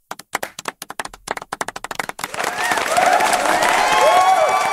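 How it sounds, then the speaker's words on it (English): Scattered hand claps build quickly into sustained applause from a small crowd, with whoops and cheering rising over the clapping. "Applause for Shay."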